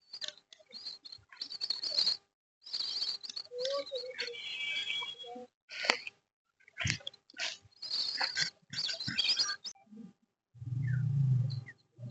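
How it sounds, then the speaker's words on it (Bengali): Migratory birds chirp and twitter in short bursts over a wetland, fairly faint and outdoors, with brief pauses and a low rumble near the end. "আরিয়াল বিলে এখন প্রচুর অতিথি পাখি চলে আসছে"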